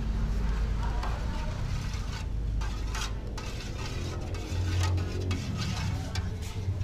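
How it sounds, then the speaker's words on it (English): Shrimp, squid, fish, green tomato and vegetables stirred in a pan with a spoon over a big flame: steady sizzling and frying with scraping and clinking of the spoon, under a constant noisy background. "stir using spoon."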